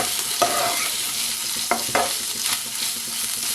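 Prawns frying and being stirred in a pan, a constant sizzle with a few sharp scrapes and clacks of the spoon, close and uninterrupted by speech.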